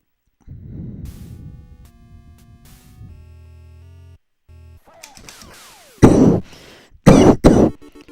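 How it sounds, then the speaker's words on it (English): A man coughs in two loud, harsh bursts near the end, after a stretch of electronic beeps and tones from the Wild Gunman light-gun game on an NES. A quieter throat-clearing sound comes just before the coughs. "Please excuse the coughing"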